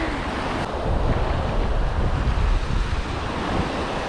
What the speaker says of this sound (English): I love the beach.